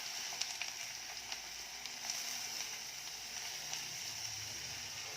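Garlic and onion sizzle in hot oil in a pan while cooking prawn rice, a steady soft crackling hiss with faint spatters, quiet and close with no talk.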